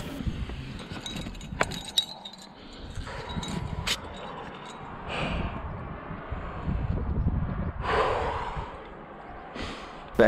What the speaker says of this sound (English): You can hear my breathing slow down.